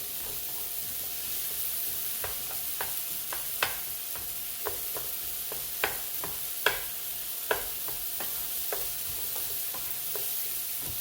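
Onions frying with pink salmon in a pan give off a steady sizzle, broken by repeated sharp scrapes and knocks of stirring.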